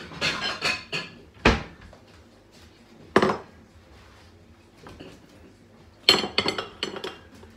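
Dishes and cutlery clink as food is put into a bowl, several sharp bursts of clattering spaced apart with quieter rustling between, close by.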